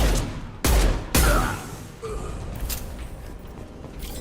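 Shotgun blasts go off in Mass Effect 2: two heavy booming shots close together, then a quieter stretch of game ambience with faint effects.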